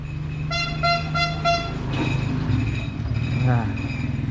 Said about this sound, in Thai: เดี๋ยวรอรถไอติมผ่านไปก่อนนะครับ